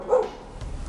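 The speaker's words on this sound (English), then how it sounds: "My dog doesn't shut up." A single short dog bark or yip close by, brief and moderately loud, followed by quiet room noise with no talking.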